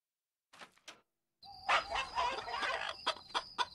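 Farm chickens on Orchard Farm in the video game Fable Anniversary cluck in quick, busy bursts close by, after a couple of brief faint squawks.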